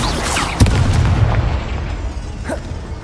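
Confringo blasting spell detonating in Hogwarts Legacy, a loud, close explosive boom with a sharp onset that rolls into a rumbling tail, followed by a smaller secondary burst near the end.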